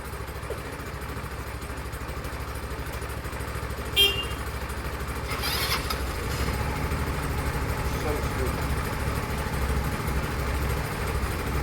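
A Honda CD200 motorcycle engine idles with a steady low putter, joined by a brief beep and a short rattle partway through, while people talk nearby.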